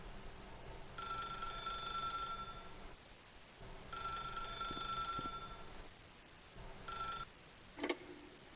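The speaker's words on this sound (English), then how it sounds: "then pick up the phone" A telephone rings in The Stanley Parable video game, a bright electronic trill sounding in three bursts separated by short silences, followed by a faint click as the handset is picked up.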